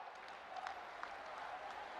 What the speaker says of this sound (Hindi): मैं चाहूंगी सभी के लिए आप एक बार जोरदार तालियां बजा दें।